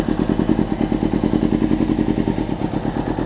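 Motorcycle engine running on a cold day, a loud close steady rhythmic thumping idle with even pulsing throughout, no talking.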